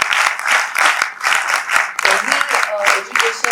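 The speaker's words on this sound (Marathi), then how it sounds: "या अनव्हेलिंगसाठी सुद्धा मला वाटतं जोरदार टाळ्या झाल्या पाहिजेत" An audience bursts into loud, sustained applause at an unveiling during an artificial intelligence talk at Yoddhaa, dense clapping filling the room continuously with crowd noise throughout.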